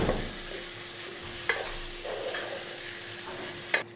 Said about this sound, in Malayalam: ഇനി ഈ തക്കാളിയും കൂടെ നല്ലതായിട്ടൊന്ന് വഴറ്റിയെടുക്കണം